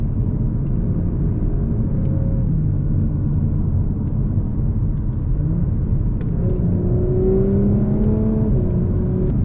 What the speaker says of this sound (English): You guys can probably hear a couple burbles here and there. I absolutely love the exhaust on this.